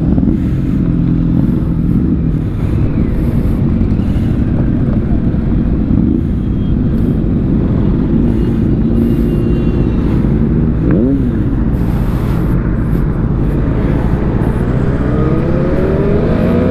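A group of superbikes riding past on a road toward Jaipur: loud, continuous engine roar and revving that swells as bikes pass close by, with rising and falling pitch sweeps near the middle and end.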